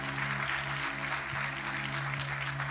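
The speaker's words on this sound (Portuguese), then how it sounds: "Você pode aplaudir mais forte para o Senhor?" A church congregation claps for the Lord during a Sunday morning service, a steady, moderately distant sustained applause over a low hum from the sound system.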